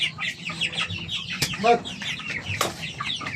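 Chickens and chicks cluck and peep close by at feeding time, with busy overlapping calls and occasional louder squawks.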